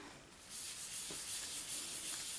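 A stamped card being rubbed by hand during cardmaking with the First Sight stamp set, giving a steady, soft, close scratchy friction sound that lasts the whole moment with no talking.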